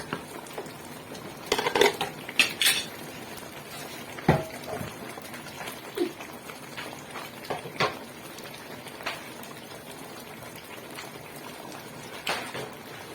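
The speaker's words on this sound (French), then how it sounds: "Notre sauce est en train de mijoter" A spinach and okra sauce simmers in a pot with faint bubbling underneath. Scattered utensil clinks and scrapes against the pot sit on top, close and moderate, with no talking.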